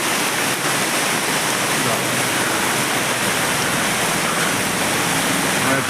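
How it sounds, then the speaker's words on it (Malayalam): Rainwater rushes strongly through a culvert under NH 66 at Randathani, Malappuram, a loud, dense, continuous roar of flowing water up close with no letup. "അങ്ങനെ വെള്ളം നല്ല ഒഴുകുന്നു"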